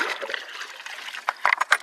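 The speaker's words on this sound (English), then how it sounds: "I just gotta get some water, some rainwater." Rainwater trickles and splashes as it is poured or scooped out for livestock, a short, close burst of dribbling liquid that ends in a few sharper splashes.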